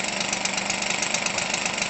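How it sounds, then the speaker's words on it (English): A new Weedeater Featherlite 25cc RC engine idles very low, a steady, even buzzing putter heard close and alone. "it just blows me away how low of an idle that you can get"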